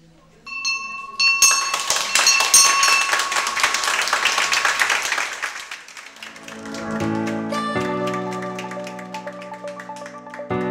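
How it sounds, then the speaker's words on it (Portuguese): A victory bell rung at a hospital radiotherapy unit by patients finishing treatment: bright metallic clangs with clapping and applause, then a sustained ringing tone that decays slowly. Voices mix in with the celebration. "Todos aqueles pacientes que recebem alta do tratamento de radioterapia tocam o Sino da Vitória"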